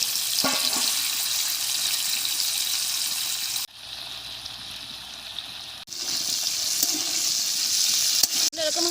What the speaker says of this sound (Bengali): মাছগুলো ভেজে নেব। এখন কড়াতে তেল দিয়ে দিচ্ছি।